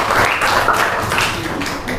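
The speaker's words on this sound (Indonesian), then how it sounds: "Tepuk tangan untuk kelompok hijau." Short, close applause from a classroom for the green group, with dense, quick claps lasting about two seconds.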